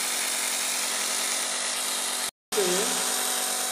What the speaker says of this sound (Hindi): देखिए दोस्तों, ये हमारा ड्रोन मोटर बन के हो गया तैयार।